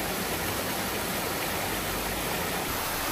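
Rainwater gushes from a channel beside a stone stairway in a Seoul valley, falling like a small waterfall. It makes a dense, steady, close rushing hiss that stays loud and unbroken throughout.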